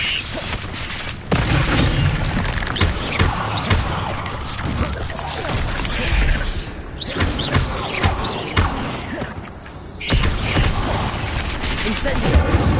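Incendio fire spell being cast in Hogwarts Legacy on PS5, with fiery bursts and thumps inside a continuous loud wash of combat noise that barely lets up over several seconds.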